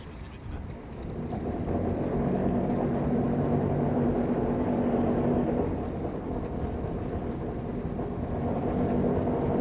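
A twin-engine superyacht cruising at sea on a Turkey to Spain passage, a steady low engine rumble mixed with rushing water and wind noise, continuous and fairly loud.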